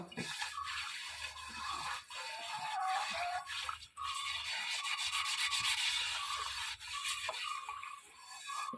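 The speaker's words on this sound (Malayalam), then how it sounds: "കല്ലുപ്പ് ഇട്ട് കൊടുക്കുക അല്ലെങ്കിൽ പൊടിയുപ്പാണെങ്കിലും ഇട്ടിട്ട് തേച്ചൊരച്ച് കഴുകുക" An Indalium uruli pot being scrubbed with rock salt, producing a loud, continuous gritty rubbing that runs almost the whole time with brief pauses, with faint talk underneath.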